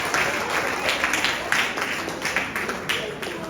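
Steady crowd applause at a children's arts program during a church anniversary celebration, dense clapping throughout, fairly loud and continuous, with a few sharper claps standing out.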